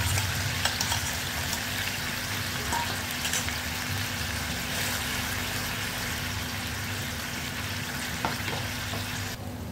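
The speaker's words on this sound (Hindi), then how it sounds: "ये देखिए फ्रेंड्स, हमारा मसाला कितने अच्छे तरीके से भून करके तैयार हो गया है, तेल सारा ऊपर आ गया है" Spiced masala paste frying in oil in a pan for pindi chole, a steady, soft bubbling sizzle with faint crackles throughout, close and alone with no talk.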